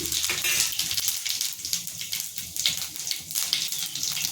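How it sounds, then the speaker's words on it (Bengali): Whole spices, two bay leaves, cloves and cumin, splutter and sizzle in hot white oil in a kadai while a chicken dish is cooked, a steady, loud crackling hiss that continues throughout without a break. "গরম তেলে দিয়ে দিচ্ছি 2টো তেজপাতা, লবঙ্গ আর জিরে ফোড়ন দিচ্ছি"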